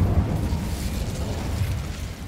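Incendio fire spell blasting in Hogwarts Legacy, a dense roaring burst with low rumble sustained throughout, loud and close, no voices.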